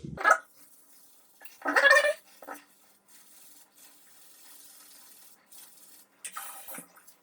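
A shaving brush whips creamy shaving soap into lather in short wet swirling bursts, separated by quiet pauses, close and fairly loud.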